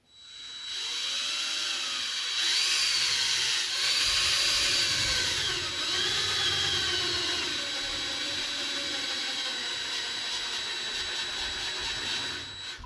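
A power drill bores into a metal teapot, a steady high whine that rises and dips in pitch as the bit bites, running alone for most of the stretch at moderate level.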